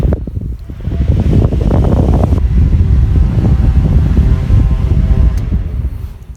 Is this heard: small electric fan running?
yes